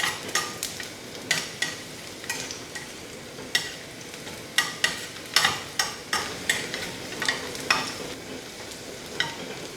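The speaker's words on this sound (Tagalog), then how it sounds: "Gisa na natin ang ating bawang. Gisa lang natin siya until mag-light brown siya." Garlic sautés in a hot pan under a constant low sizzle. A utensil scrapes and taps against the pan over and over as it stirs, and the close, sharp clinks are spread across the stretch. No voices are heard.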